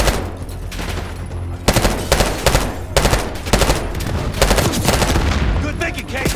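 Sustained automatic gunfire in Call of Duty Black Ops 6, set at an airport terminal in Kuwait, crackles in rapid loud bursts with short gaps between volleys, while shouted voices and battle noise sit in the background.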